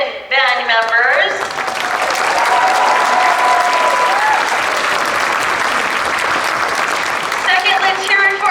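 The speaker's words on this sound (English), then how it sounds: "let's have a round of applause for our freshman band members" High school band audience applauding freshman band members at a school performance, a dense, loud wash of clapping that fills the space, with a voice speaking briefly at the start and again near the end.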